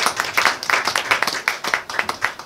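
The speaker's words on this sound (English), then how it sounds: "Good round of applause for JT." A small audience claps for a presenter after a talk at an evening event, a moderate round of distinct, fairly rhythmic handclaps close by, with no speech over it.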